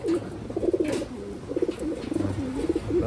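Taiwan pigeons cooing and scuffling in a loft, with repeated close, throaty coos and rolling calls all through and a bit of background hiss.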